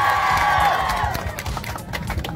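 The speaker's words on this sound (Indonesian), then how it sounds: "Tepuk tangan, tepuk tangan." An audience at an outdoor Christmas carol event in Taman Dukuh Atas, Jakarta, breaks into scattered clapping and cheering over a fading voice or music, the applause continuing moderately loud and close.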